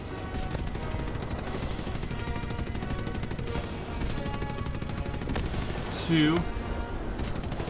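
Aircraft machine guns firing in the War Thunder flight game, a dense steady rattle of gunfire running throughout, with a voice speaking briefly over it.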